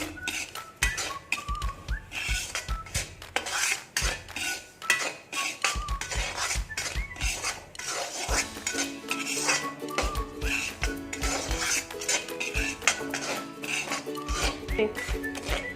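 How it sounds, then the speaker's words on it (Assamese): Semolina (suji) stir-fried in a pan for sweet pitha: a steady run of scraping and clinking as a spoon works the dry grains against the metal, close and continuous, with music or other tones in the background. "এতিয়া মই ইয়াতে ভালকৈ 2 মিনিট সময় ইয়াতে ভাজি ল'ম"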